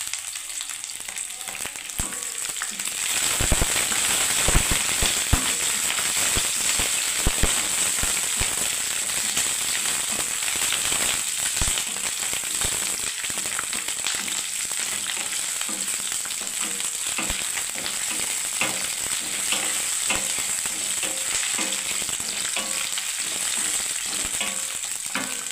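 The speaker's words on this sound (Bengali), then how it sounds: "দেখুন এরকম করে আমি সব ভেজে নেবো বন্ধুরা পেঁয়াজগুলো।" Onions frying in hot oil, with a loud, dense, continuous sizzle and popping crackle that swells once they hit the pan and holds steady.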